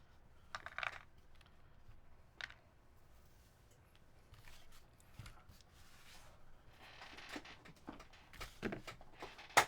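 Gaskets are pulled off a custom keyboard plate, making quiet scattered close scratches, rubbery peels and soft clicks in irregular bursts against a faint background.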